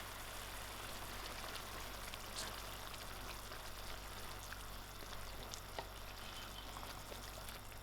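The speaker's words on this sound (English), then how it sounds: "To thicken my gravy, I'm just going to add in my half a cup of puree." Puree poured into a simmering Durban-style hot and spicy fish curry gravy: a faint, steady wash of bubbling and soft pouring, low and continuous with a few small pops, no talking.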